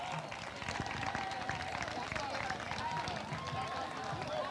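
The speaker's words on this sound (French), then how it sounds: "Sous vos applaudissements, s'il vous plaît." An audience at the Miss Earth Haiti pageant final applauds, with steady, dense clapping and crowd noise that carries on unbroken and mixes with voices.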